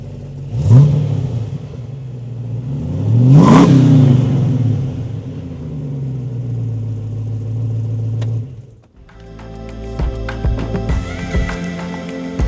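A Land Rover engine revs in two sharp throttle blips over a steady idle, then cuts to a quieter, clattering idle, close and loud with no talk.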